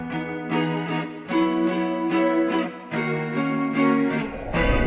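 Electric guitar treated with chorus and phaser plays a run of strummed chords with a swirling, shimmering wash, steady and moderately loud.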